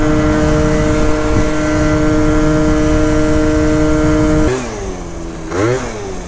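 A 70cc Yamaha BWS scooter with a stock exhaust pipe drones loudly and steadily while riding, its engine note holding level before dropping off and then briefly revving up again near the end.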